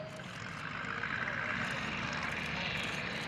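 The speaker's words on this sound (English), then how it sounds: "Do a little NASCAR burnout in a 1930s vintage airplane" A 1943 vintage propeller airplane does a ground burnout at an airshow, its engine giving a loud, steady, broadband roar that holds for a few seconds without a pause.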